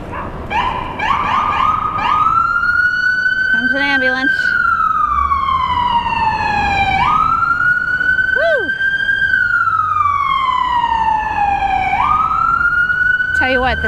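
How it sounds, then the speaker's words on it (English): Emergency vehicle sirens wail loudly between tall downtown buildings in Portland, Oregon, in long rising and falling sweeps broken by short rapid yelps, echoing in the street. "the sirens are always louder when there's big tall buildings to bounce off of"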